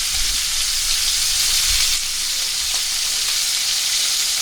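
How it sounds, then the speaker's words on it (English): A pork chop sizzles in a hot cast iron pan with a loud, steady frying hiss and a few low thumps as it is handled. "You can hear that sizzle."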